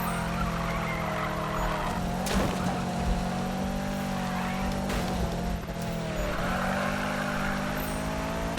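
Car drifting through corners in Need for Speed 2015, a steady engine drone with layered tire squeal held through long slides, loud and continuous with brief shifts in pitch.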